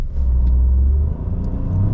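A Lynk & Co 01 car accelerating with a slow transmission upshift: steady loud engine rumble heard from inside, with the pitch dropping and resettling as the gear changes.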